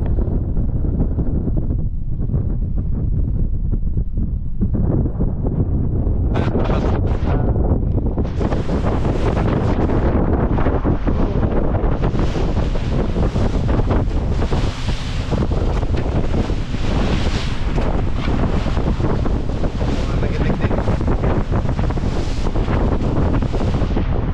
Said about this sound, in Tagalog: Pasensya na ho, lakas ng hangin.